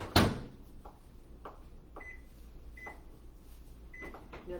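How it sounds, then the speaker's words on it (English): A microwave oven running in a community cooking class kitchen, a faint low hum with a sharp click or door sound at the start and soft repeated beeps or ticks spaced through it. "Now that we know how to use the microwave."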